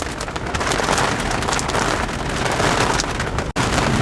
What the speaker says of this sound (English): now it's raining, so it's a little bit sketchier than it should be